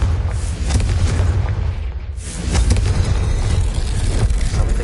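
Confringo blasting spell explosions in Hogwarts Legacy, a loud rumbling, booming roar that fills the whole clip, briefly easing around the two-second mark before surging again.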